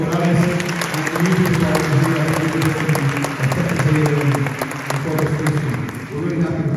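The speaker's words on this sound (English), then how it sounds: "Big round of applause for Dr. Morales." Crowd applause at a mariachi festival concert on the island, sustained clapping and cheering that rolls on for several seconds, with voices mixed in under the clapping.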